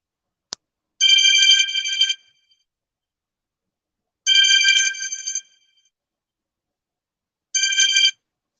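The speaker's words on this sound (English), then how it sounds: "I didn't mean to be so tacky and have a phone ringing" A phone ringtone rings in three loud electronic bursts, each about a second long, separated by silence. A short click comes just before the first ring.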